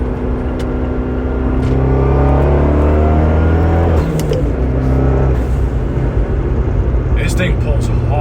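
A tuned Eurocompulsion Phase 3 car accelerates hard in extreme heat, its engine droning loudly as it climbs through the revs, close and sustained with a voice talking over it.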